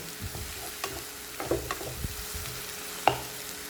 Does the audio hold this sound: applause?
no